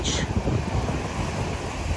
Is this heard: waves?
yes